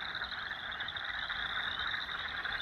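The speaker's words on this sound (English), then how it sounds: "The pickerel frog has a softer, subtler snore than the leopard frog." A pickerel frog gives its soft, subtle snore-like call, heard as one continuous rattling drone. It is faint and steady throughout, with no voices.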